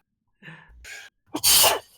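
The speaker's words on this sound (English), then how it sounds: "she sneezes into her handkerchief" A single sharp sneeze, preceded by two short breathy intakes, close and loud, then quiet.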